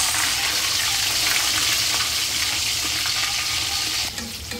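Chinese sausage fries in hot oil alongside golden-browned garlic in a pan, giving a loud, continuous close sizzle that fills the whole stretch and eases slightly right at the end.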